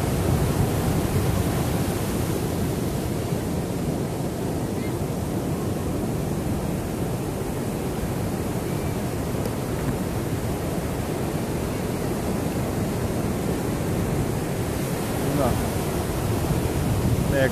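Big ocean waves at Piha beach, New Zealand: a steady, broad roar of surf with no distinct breaks, loud and continuous throughout, with a faint swell near the end.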